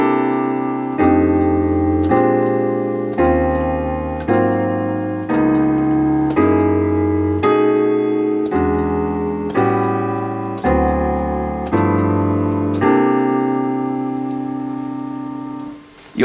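A jazz piano steps through dominant seventh chord voicings in steady time, one sustained chord after another in a regular even pulse, with full, loud, ringing tones and no voice over them.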